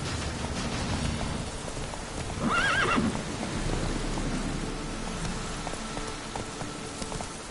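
In The Witcher video game, the horse Roach lets out a short rising whinny amid steady hoof clip-clops and a rain-like patter, close and clear, with no speech.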